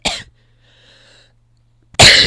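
A short cough bursts out, then a quiet pause with faint tones, followed by a louder, harsher cough at the end.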